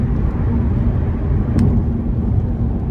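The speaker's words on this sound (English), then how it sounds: "right now I'm driving in the car" Steady low road rumble inside a moving car on the way to work, a continuous broadband drone with one faint brief high tick partway through, no voices.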